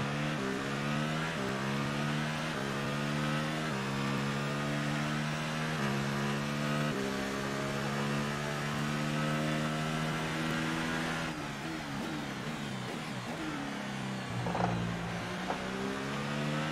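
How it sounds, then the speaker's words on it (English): A McLaren Formula 1 car in F1 2018 at the Austrian Grand Prix has its engine droning steadily, with a regular rhythm of upshifts as the pitch climbs, drops and climbs again. The gearbox sounds odd, and the engine stays loud and close throughout. "Also, this gearbox sounds very weird."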